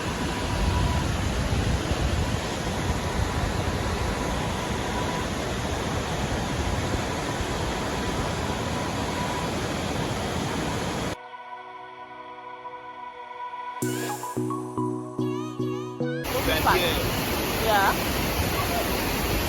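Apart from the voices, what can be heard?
Farin Ruwa waterfall roaring in Nigeria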